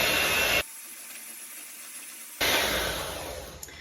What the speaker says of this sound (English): we're going to grab our electric mixer and we are going to cream this together for about a minute